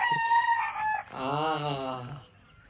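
A rooster crows once at close range on a farm with other fowl, a long loud cock-a-doodle-doo after a brief burst of clucking, heard on its own without talk.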